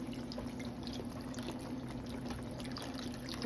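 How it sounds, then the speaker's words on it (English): Chicken broth pours into a pan with flour for pork chop gravy, giving a soft, steady liquid trickle and splash at low level, with no voices. "I'm gonna pour some over on in here. We're just gonna pour."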